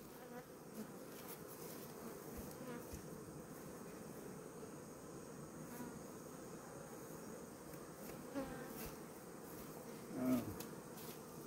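Native Korean honeybees buzz steadily and close by for the whole stretch, a dense continuous drone with a slightly louder swell near the end and no talking.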